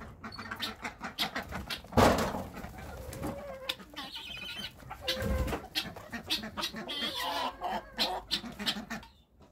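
Hens and other farmyard birds cluck and chatter near and far amid scattered knocks and rustling, a busy uneven mix with no talking.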